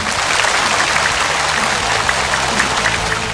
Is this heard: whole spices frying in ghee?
no